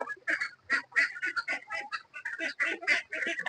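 A flock of ducks freshly let out quack repeatedly in a dense, overlapping chatter, loud and close, with rapid honking calls and no talking.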